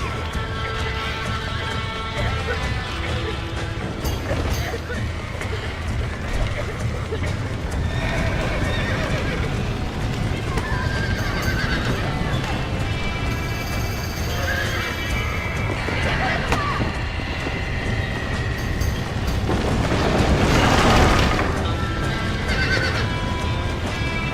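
Horses from the Red Dead Redemption video game whinny and neigh repeatedly over steady clip-clopping hooves and dense background noise, with a louder crash-like burst near the end.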